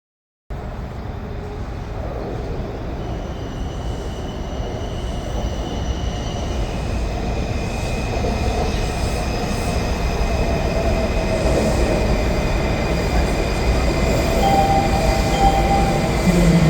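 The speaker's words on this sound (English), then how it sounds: "The metro train that you just saw was one of the few metros we had to ride" A Washington DC metro train rolls past in a steady, building rush of wheels on rail with faint squealing tones, growing gradually louder over the whole stretch, with no voices.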